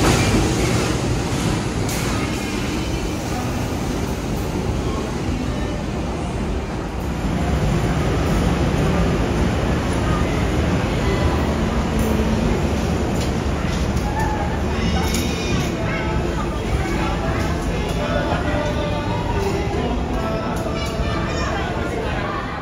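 Doho commuter train arriving at Blitar station, a continuous rolling rumble of wheels and cars filling the platform, with people talking over it.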